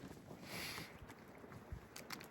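Wind rushes and buffets the microphone in uneven gusts, a steady roar with brief louder swells and no talking, on a cold day along the Appalachian Trail.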